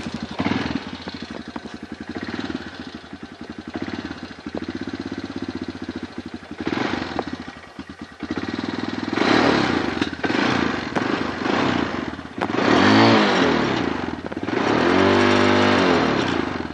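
A new dirtbike engine running rough on a cold day, its motor idling unevenly and then revving up in several loud, close bursts that rise and fall, with the engine struggling to keep running between throttle blips.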